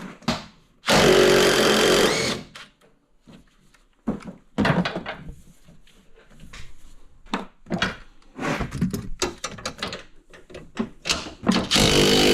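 A power tool runs off 18mm shock tower bolts on a Silverado truck, with one loud two-second burst of whirring followed by scattered clanks, rattles and short tool bursts in a garage setting.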